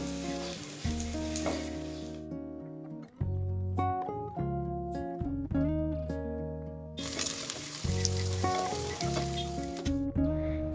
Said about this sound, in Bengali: মিডিয়াম হিটে 6 মিনিট কোফতাগুলোকে এভাবে ভেজে নিয়েছি।